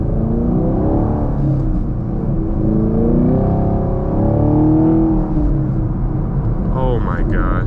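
A 2024 Chevy Camaro SS Collectors Edition accelerates hard on the road, its V8 exhaust a loud, deep roar that climbs in pitch through the gears, with a voice talking over it.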